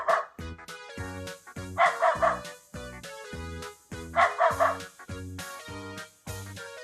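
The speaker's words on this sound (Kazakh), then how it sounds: "Бұл ит." A dog barking in short repeated bursts, yips coming in quick clusters over a steady, rhythmic backing of tones.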